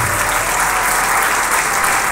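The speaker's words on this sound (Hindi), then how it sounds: "तो जो खुदावंद हमारी खातिर मसलूब हुआ उसके लिए ज़ोरदार तालियां बजाएंगे" A church congregation at a Hindi-Urdu sermon breaks into loud, dense applause for the crucified Lord, a continuous roar of many hands clapping close by with no talk over it.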